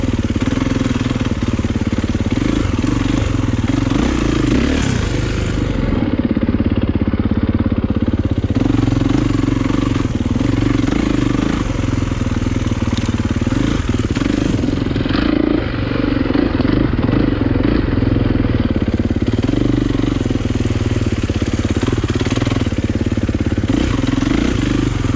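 A dirt bike engine roars loud and close throughout a ride, its buzzing, rasping drone rising and falling with throttle changes, and the pitch dips briefly a few times.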